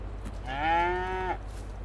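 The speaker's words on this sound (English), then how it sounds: "And here's the little itty bitty baby cows" A single drawn-out cow moo from cattle in the Farming Simulator 22 video game, near and clear against a quiet background, with no talking.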